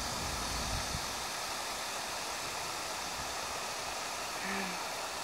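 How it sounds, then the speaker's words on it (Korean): Steady rushing water of a small stream in Cheongju fills the scene, a broad even hiss of flowing water with no other sounds breaking through. "자, 물소리 잠깐 듣고 가겠어요."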